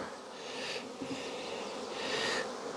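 Honeybees buzz steadily on a hive frame during beekeeping work, a dense close drone that swells louder in places with no voices.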